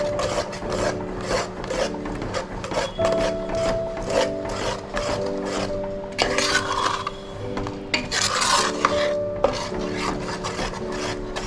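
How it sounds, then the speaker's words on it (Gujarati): Thick mohanthal mixture scraped and stirred nonstop in a pan, a loud, steady rasping rub with rhythmic strokes and faint metallic clinks, with no talking. "હવે સતત હલાવતા રહેવાનું છે."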